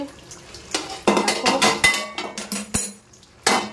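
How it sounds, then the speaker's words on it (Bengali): Mutton being stirred and browned down in a pot, with irregular clattering scrapes and knocks of a spoon against the pot over a low sizzle, a dozen or so strokes, no voices. "মাংসটা কষানো হচ্ছে"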